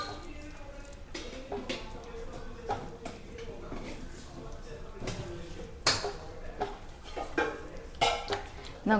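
A sweet jackfruit filling cooked with ghee is mixed in a pot, with irregular scraping and clanking of a spoon against metal, close by, while someone talks over it.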